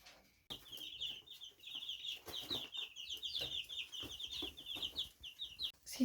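Chickens cluck steadily and close by in a Lapland coop in May, some having flown up onto a railing, with busy overlapping calls and some shuffling, without talk.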